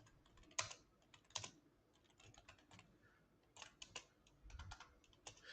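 Python code is typed on a computer keyboard in VS Code, scattered close keystrokes in short irregular bursts, quiet and without talk.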